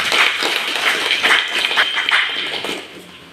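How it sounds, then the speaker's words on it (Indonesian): Applause from colleagues at a teachers' gathering at SMKN 1 Bukit Kemuning, a short burst of scattered clapping from a small group, close and fading toward the end. "Kasih aplaus untuk kawan-kawan."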